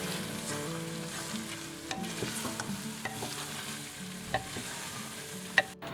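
Cauliflower and meat stir-fried in a pan, a soft steady sizzle with a spatula scraping and tapping at uneven intervals, fairly quiet and close, without speech.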